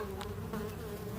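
Honey bees buzz steadily around an open hive while honey supers and queen excluders are fitted, a close, continuous insect hum with no talk.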